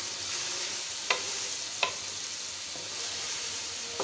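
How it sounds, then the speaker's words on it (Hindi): Desi tinde, round gourd, stirred into cooking meat in a pot, with a steady sizzle and hiss throughout and a few soft spoon scrapes and clicks against the pot. "और अब इसमें डालेंगे टिंडे, देसी टिंडे। क्या ही बात। मिक्स कर देंगे इसको अच्छी तरह।"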